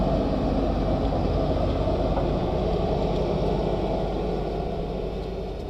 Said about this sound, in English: Sorry about the noise, my wife's driving the tractor.